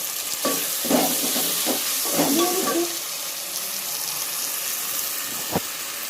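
Onions sauté in a pan on a kitchen stove, giving a steady hissing sizzle with scraping stir strokes through the first half and a sharp clank near the end.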